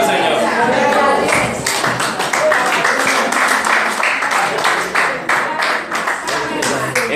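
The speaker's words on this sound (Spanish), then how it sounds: "Den un aplauso al Señor" A church congregation applauding at a Spanish-language worship service, dense sustained clapping loud and close throughout, with voices calling out over it.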